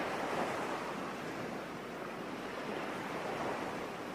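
Waves wash steadily onto a shore in a soft, continuous rush, fairly faint and calm with no voices.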